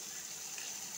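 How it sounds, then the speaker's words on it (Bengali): A small splash of water poured into a pointed gourd and yogurt curry (doi potol) in the kitchen, a soft, steady trickle lasting about a second, faint and alone. "সামান্য একটু জল দিয়ে ঢেকে দিব।"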